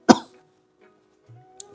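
A single sharp cough up close, followed by near silence and a few faint, brief sounds.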